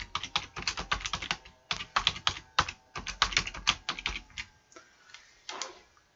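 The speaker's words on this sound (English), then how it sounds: "that allows me to type some text in" Rapid keystrokes on a computer keyboard, clattering in quick bursts with brief pauses, close and fairly loud, with no speech.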